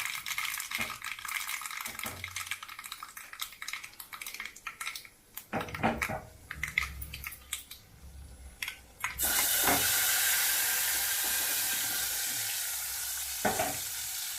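Mustard seeds and chillies crackle and sizzle in hot oil for a tempering, with scattered pops and utensil clatter at first, then a loud, steady frying hiss for the last few seconds.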